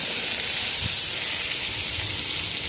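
Mango pieces frying in hot spiced oil for a chutney, a steady loud hiss and sizzle throughout with a faint scrape of stirring.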